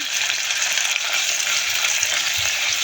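Onion frying in oil inside a mini rice cooker for khichuri, giving a steady, close hiss of sizzling that holds level throughout with no one speaking.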